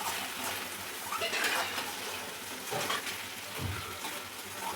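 A hilsa fish head and taro greens curry is stirred in a pan, with a low sizzle, scraping and occasional utensil clinks against the metal, moderately quiet and close with no talk.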